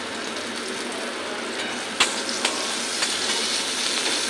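Onions fry lightly in a pan with a soft, steady sizzle, broken by a few sharp clicks from a utensil near the middle and toward the end.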